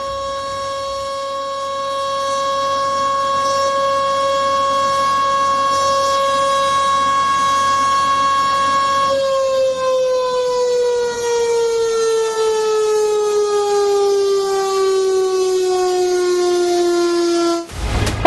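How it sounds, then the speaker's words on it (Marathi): A civil defense alert siren installed in Pakhtunkhwa, a loud sustained wail holding one pitch, then winding slowly downward as it fades, running on its own with no voices. "पख्तूनमध्ये नागरिकांना अलर्ट करण्यासाठी सायरन बसवण्यात आलेला आहे"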